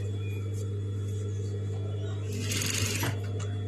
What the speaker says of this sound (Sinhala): නැවතත් පහළට මහනවා.